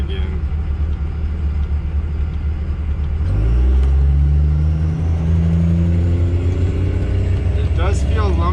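A faltering RV engine runs in gear on the road, a loud steady rumble that rises in pitch partway through as it picks up speed, with interior road noise and talking over it.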